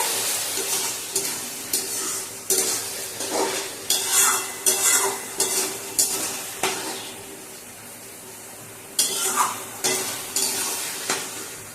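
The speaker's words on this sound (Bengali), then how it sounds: "ঢাকনাটা খুলে আবার একটু নাড়িয়ে নেওয়া হবে" Bata fish curry is stirred in an uncovered pot, with repeated scraping strokes of a spoon against the metal over a soft, constant sizzle. The stirring comes in irregular bursts, close and moderately loud.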